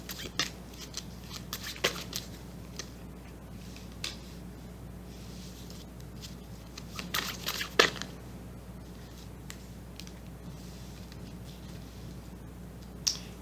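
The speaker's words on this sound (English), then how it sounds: "Let's get a good shuffle here" Tarot cards are shuffled close by, with soft papery riffles and taps coming in irregular bursts over a quiet background.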